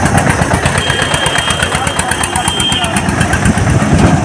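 A modified 1992-model tractor engine idles loudly and close, a steady rapid chugging rumble that runs throughout without a break.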